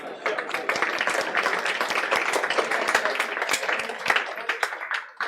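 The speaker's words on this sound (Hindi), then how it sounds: "अच्छा, क्या हम इस बच्चे के लिए ताली बजा सकते हैं?" Students in a classroom lecture applaud a classmate with steady, dense clapping that runs for about five seconds at moderate loudness before easing off at the end.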